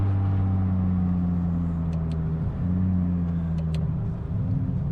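A 2JZ-swapped Nissan S15 Silvia with an 8HP70 automatic gearbox accelerates under a loud, steady engine drone, its pitch dipping briefly midway as the gears change, with faint chirps above and no talk.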